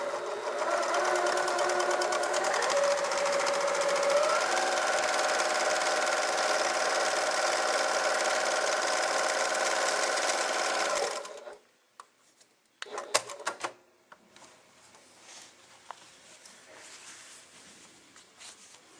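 An Elna 7100 sewing machine stitches in a steady, fast whirring run for about eleven seconds, then stops, leaving a few faint clicks and handling noises.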